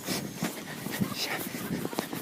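A newly adopted dog pants and whimpers outdoors in snow after escaping her leash, quick breathy pants and faint whines mixed with people talking and exclaiming nearby.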